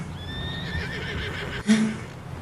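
A horse in the video game Red Dead Redemption 2 lets out a drawn-out whinny on a stormy snowy trail, followed by a short snort, over a steady wind-like background.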